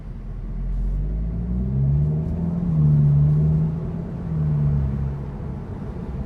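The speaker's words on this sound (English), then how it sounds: "There is some slight induction noise there, but it's very muted." A Cupra 300 DSG with a resonator delete pulls away from traffic lights and accelerates, its muted intake growl rising and falling through several gear changes, fairly close and smooth.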